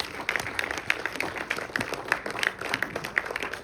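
Scattered audience clapping at a Kannada film festival as a film team is called to the stage, individual claps distinct and fairly close over a soft crowd background.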